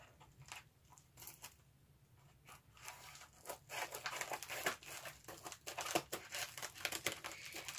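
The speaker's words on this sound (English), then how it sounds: "I have scissors here to cut the top" Scissors snip and crinkle through plastic packaging on a parcel, a run of close, quiet cuts and rustles that grow busier and louder toward the end.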